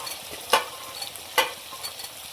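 Mixed vegetables, including cauliflower and peas, are stirred in a hot pan for veg biryani, with two distinct scraping stirs over a soft continuous sizzle and no voices.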